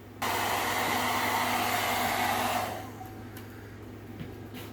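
A hair dryer blows steadily and loudly on hair during a salon dry and style, its roar dropping partway through to a quieter lower setting without any talk.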